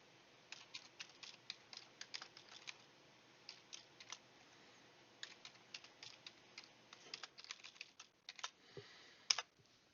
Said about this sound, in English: we're going to enter a password here